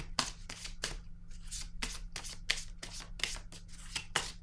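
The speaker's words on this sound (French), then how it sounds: "Je vais déposer une carte sur le communiquer ici avec vous." Oracle cards are shuffled and laid down by hand, a close run of sharp riffling bursts and flicks in an uneven rhythm, with no talk over them.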